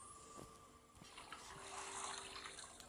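Tap water runs steadily into a kettle for about three seconds, a continuous hissing splash that is moderately close and without any voices.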